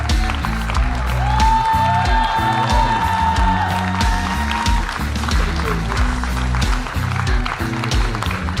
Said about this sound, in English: your loudest applause for Flight Lieutenant Antara Mehta